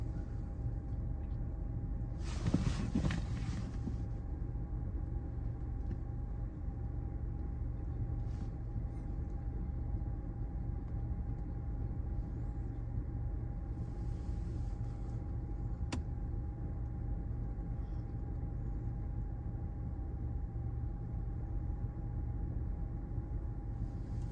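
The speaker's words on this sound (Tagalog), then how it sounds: "machine na umiikot sa sasakyan mo" A touchless automatic car wash machine in Canada moves around a parked car, giving a steady low mechanical hum and rush with a brief louder burst of spray early on, heard from inside the vehicle.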